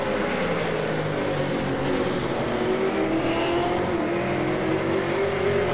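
V8 Supercars race cars pit at Montreal in a racing game, a dense, continuous engine drone with several overlapping pitches that rise and fall steadily at moderate loudness, no one talking.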